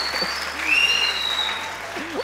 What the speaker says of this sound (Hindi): अबे तालियां बजाओ